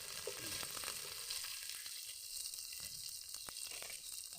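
Onion, green chilies, garlic and curry leaves frying in a pan with mustard seeds, giving a steady faint sizzle with scattered crackles and pops, heard close and alone.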